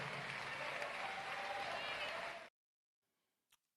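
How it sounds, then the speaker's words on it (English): A large audience at a funeral service breaks into sustained, steady applause that fills the space for a couple of seconds and then cuts off sharply. "Give Jonathan Jackson another great round of applause for delivering our family message to the world."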